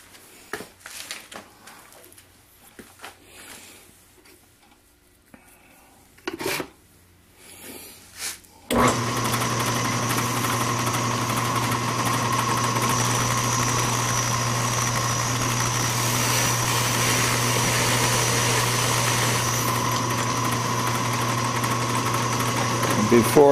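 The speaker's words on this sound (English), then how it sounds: "I've set up my parting blade and I'm going to part it off." A Craftsman metal lathe parts off a short steel collar with a parting blade. After quiet handling noises, the motor starts and runs with a steady hum and a whining cutting tone, and a voice can be heard at the start.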